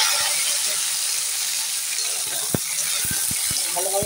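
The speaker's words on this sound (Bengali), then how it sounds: "ভালোভাবে ঢ্যাঁড়সটা ভেজে নেব।" Okra fries in mustard oil in a wok with nigella seed tempering and green chillies. A loud, steady sizzle runs throughout, with a few sharp utensil clicks near the end.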